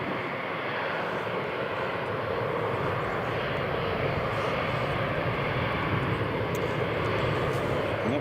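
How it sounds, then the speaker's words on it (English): A steady broadband roar of an Emirates airliner taxiing for takeoff at Newcastle International Airport, continuous and even throughout, heard from a distance with no talk over it. "Yep, Emirates says that they are fully ready for takeoff. So Emirates just taxiing."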